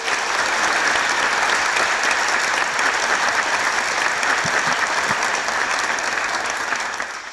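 A studio audience on the Kick Andy talk show applauds Cinta Laura, a steady, full wash of clapping that holds evenly before easing off at the very end.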